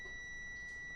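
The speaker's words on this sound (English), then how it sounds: "I get a beep." A steady electronic beep tone from a multimeter continuity test on an iPad Pro holds for the full second, clean and continuous, with faint background noise beneath.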